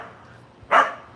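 A single short dog bark rings out at middle distance over a quiet background, one sharp burst with nothing after it.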